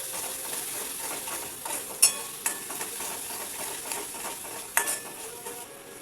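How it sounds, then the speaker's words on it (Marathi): Garlic and cumin paste stir-fried in hot tempering oil for Maharashtrian batata vada, a soft steady sizzle with sharp spoon-against-pan scrapes and clicks, alone without talk. "आता त्यामध्ये थोडंसं लसूण जिऱ्याची पेस्ट टाकूया. याला छान परतवून"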